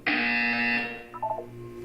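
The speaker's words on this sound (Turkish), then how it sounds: "You will hear the buzzer." Portal 2 video game buzzer: one loud, sustained electronic tone lasting under a second, then a short wavering pulse of lower tones and a quieter hum.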